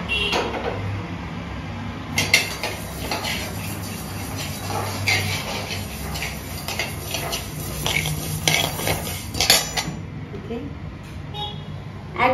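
Dishes and cutlery clink and clatter intermittently nearby, with a steady low hum underneath and occasional voices.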